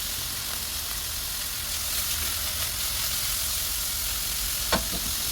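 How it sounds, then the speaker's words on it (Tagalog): Ground beef sizzling and frying in olive oil for a beef burrito filling, a steady broadband hiss throughout with a small stirring clatter near the end, no voices. "Lulutuin lang natin ang ating ground beef sa olive oil."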